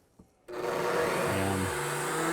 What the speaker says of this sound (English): what I'm going to do is crank this up all the way